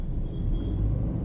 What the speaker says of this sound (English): Now that I have removed my foot from the brake, the engine automatically turns on